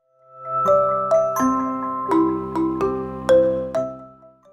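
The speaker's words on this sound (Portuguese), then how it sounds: "Tocou a campainha para o almoço." A doorbell-like bell calls people to lunch, ringing out a sequence of clear, sustained chime tones that overlap and decay, loud and close with no voices.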